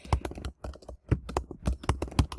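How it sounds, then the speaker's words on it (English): Quick bursts of keystrokes on a computer keyboard, close and crisp, tapping in uneven clusters with short pauses between. "I cannot type"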